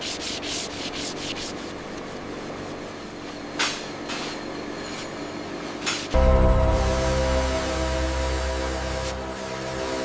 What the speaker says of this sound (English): Every Brahman bullhorn panel is placed onto CNC finishing machines, where precision tools refine dimensions while preserving the natural appearance of the Brahman bullhorn.